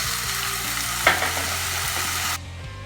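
Pork okonomiyaki sizzles loudly and steadily on a hot griddle, with a quick scrape and slap as it is flipped midway; the frying hiss drops back abruptly near the end.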